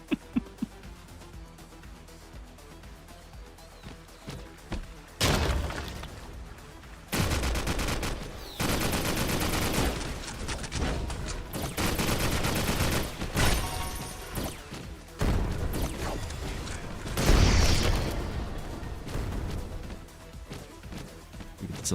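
Rapid bursts of gunfire and blasts from rockets in the PvP battle royale game Skillshot City, loud and dense in clustered volleys with short gaps between them.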